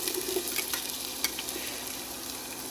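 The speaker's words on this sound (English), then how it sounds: "To that, I added just about 2 tablespoons of olive oil. We're going to add our onions in." Onions frying in about two tablespoons of olive oil in a pan over medium heat for carrot and ginger soup, a constant bright sizzle with occasional pops and stirring clicks, close and without voices.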